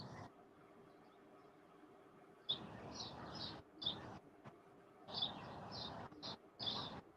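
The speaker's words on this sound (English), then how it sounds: "I hear the birds out there." Bright, high chirps repeat in short bursts from birds some distance away, over a quiet, hissy background.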